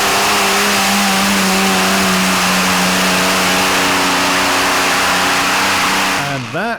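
Pulling tractor powered by two Allison V12 engines at a European Championship tractor pull in Norway, roaring loud and close at sustained high revs, then a sharp throttle drop and rev blip at the end.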